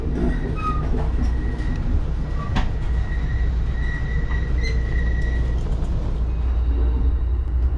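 Amtrak's Coast Starlight rolls along the rails between San Francisco and Los Angeles, a loud steady rumble from inside the train with rhythmic wheel clatter and occasional faint squeals.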